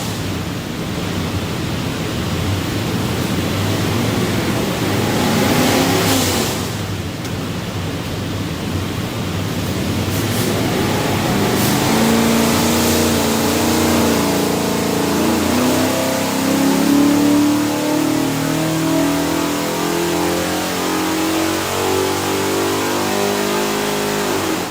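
A 427ci small block Ford V8 with hydraulic rollers and a front sump pan runs on an engine dyno, droning loud and steady and then revving up, its pitch climbing over the run, with no voices.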